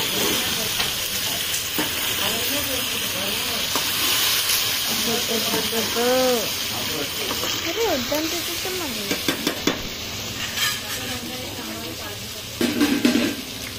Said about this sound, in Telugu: స్టవ్ కొంచెం ఒకసారి మిక్స్ చేసుకోండి. బాగా మిక్స్ చేసుకోండి.